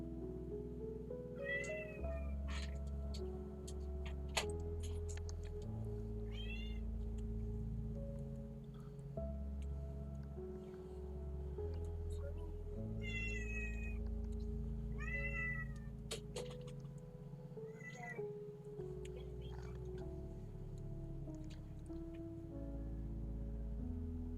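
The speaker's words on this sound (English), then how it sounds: "Go ahead and get the cat, Silo." A house cat meows repeatedly in distinct cries spread across the stretch, mid-distance, over a constant low background drone and faint ticking, with no voices.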